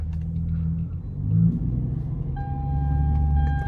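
An automatic Hyundai Genesis Coupe spinning donuts, its engine holding a steady low rumble that swells into a brief rev before settling back to a sustained drone, close and continuous with a faint whine above it.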